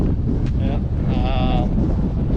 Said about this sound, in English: It's blowing a gale. Yeah, it's stupid windy.